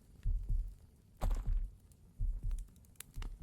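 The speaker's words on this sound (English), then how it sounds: "I can hear my own heartbeat." A heartbeat from the horror video game Bloodbark sounds as low, muffled lub-dub thumps in steady pairs. Four beats repeat evenly, close and heavy, with no talking.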